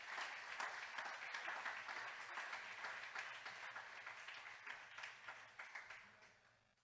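A church congregation applauds during a Thanksgiving service, with dense, steady clapping from many hands that tapers off at the close.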